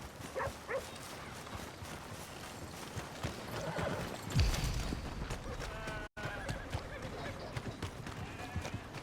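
A horse in Red Dead Redemption 2 whinnies and snorts over steady hoof clip-clop, with a louder neigh midway, set against outdoor game ambience and scattered voices.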